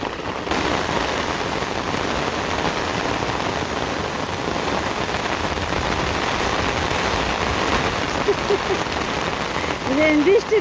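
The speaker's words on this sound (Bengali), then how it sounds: "এত বৃষ্টি এত বাতাস" A downpour of heavy rain with wind roars in an unbroken wash of drops close by, loud and steady, with a brief faint voice near the end.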